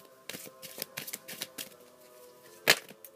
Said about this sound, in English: I'm just going to shuffle my deck right now